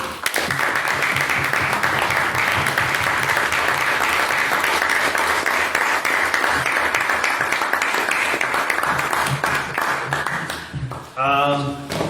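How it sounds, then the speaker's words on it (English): Sustained applause from a debate audience following the final speech of a motion on legalising euthanasia, dense and steady for most of the time, then tapering with a brief pause and a short resurgence of clapping near the end. "if we can get one more round of applause for all of our speeches this evening"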